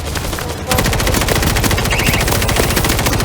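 Gunfire from the video game World War Z in horde mode against zombies. After a short lull, dense rapid automatic fire starts and runs loud and unbroken to the end.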